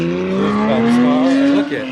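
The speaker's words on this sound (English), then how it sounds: "that was an RWB Porsche that just pulled off" RWB Porsche pulling away nearby with a rising engine tone climbing steadily over two seconds, loud and close, with a voice briefly talking over it.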